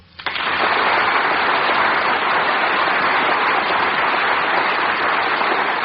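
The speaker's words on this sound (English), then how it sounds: "Mr. Mankiewicz cannot be with us tonight, I should like to ask that all of you join Jane and myself in applauding him." A studio audience at a radio drama broadcast breaks into applause, a sudden swell that quickly becomes a loud, dense, even roar of clapping sustained for over five seconds.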